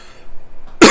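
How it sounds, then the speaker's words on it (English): A single loud, close cough bursts out abruptly at the very end, following a near-silent moment, during a strategy game commentary. "excuse me for the cough"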